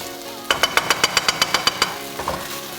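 Innards are tossed and stirred in a hot pan, giving about a dozen evenly spaced metallic scrapes and clacks in a quick rhythm over a low sizzle, then a few softer stirs.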